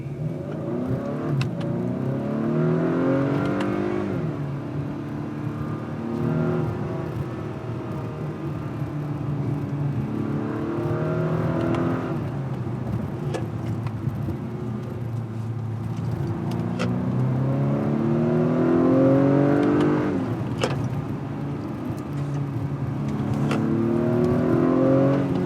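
A 2019 Acura RDX SH-AWD A-Spec accelerating hard in Sport Plus mode with sport shifting, its engine note rising in repeated sweeping pulls through the gears, loud and steady from inside the cabin with no talk.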